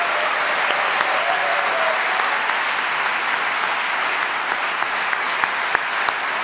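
A studio audience at a comedy roast claps in a loud, sustained wave, a dense, continuous burst of applause that holds steady throughout with no voices over it.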